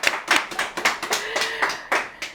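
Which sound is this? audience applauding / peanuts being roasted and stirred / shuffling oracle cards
audience applauding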